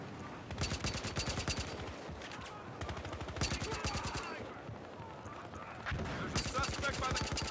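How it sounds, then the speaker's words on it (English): Heavy stationary gun firing in Battlefield Hardline multiplayer, rapid bursts of loud automatic shots in several long volleys with brief pauses between, dense and close. "This is a very stationary heavy gun"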